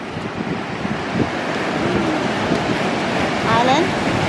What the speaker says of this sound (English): The waves crashing at the steps right here.